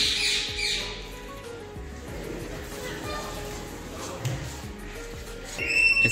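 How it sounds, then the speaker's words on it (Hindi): Small birds squawk and chirp among the animal enclosures of a zoo park in Jodhpur, with shrill calls over a busy background of visitors' voices and general crowd noise. "सबसे पहले हमें देखने को मिलते हैं बहुत सारे पशु और छोटे छोटे पक्षी"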